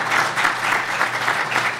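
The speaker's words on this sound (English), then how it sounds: "you can give a round of applause now" Dense, continuous applause from a conference audience at a panel discussion, loud and even throughout the short stretch, with no speech over it.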